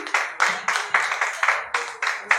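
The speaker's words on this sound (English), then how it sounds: "Give her a round of applause, please." An audience at a launch event applauds, a room of hands clapping in a steady, lively patter from close by that carries on throughout.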